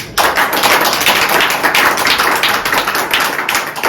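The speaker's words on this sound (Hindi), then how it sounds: "आइए प्रभु के लिए जोरदार ताली।" Loud, dense clapping from a church congregation praising God during a Hindi sermon on salvation by grace, a steady unbroken wash of many hands for about four seconds, close and full.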